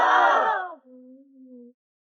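An audience at a live crosstalk comedy show erupts in loud collective shouting and heckling, a brief roar that fades quickly, followed by a couple of sustained drawn-out voices calling out.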